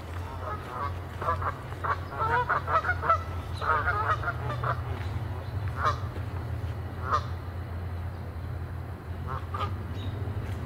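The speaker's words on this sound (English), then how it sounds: "The Canada geese are right over there." Canada geese honk repeatedly at a middle distance, overlapping calls coming in irregular bursts over a low background hum.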